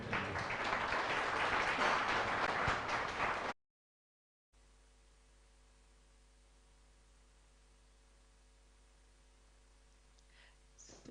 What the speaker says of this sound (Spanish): Vamos a recibir con fuertes aplausos Pastor Terry Henderson.